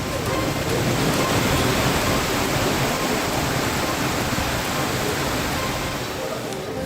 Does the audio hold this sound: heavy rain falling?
yes